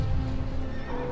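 A horse whinnies in the Shadow of the Colossus video game, a single drawn-out neigh with a wavering pitch over low rumbling game ambience, close and clear.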